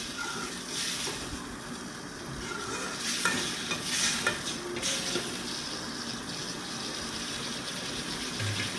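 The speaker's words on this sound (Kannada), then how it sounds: "ಇವಾಗ ಒಂದು ಸರಿ ಎಲ್ಲನೂ ಚೆನ್ನಾಗಿ ಮಿಕ್ಸ್ ಮಾಡಿ" Bitter gourd curry being stirred in a pan after a little water is added, a steady close scraping and stirring over a soft sizzle, with a few louder strokes in the middle and no talk.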